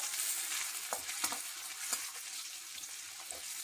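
Masala mixed with sesame powder and peanut powder frying in a pan, a quiet steady hiss with a handful of soft stirring scrapes, no speech.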